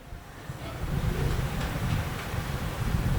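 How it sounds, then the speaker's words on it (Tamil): Wind blowing in a continuous rushing gust, a loud low buffeting roar that swells slightly and keeps going with no voices. "இந்த காற்றுல எல்லாருக்குமே குளிர்து தான்."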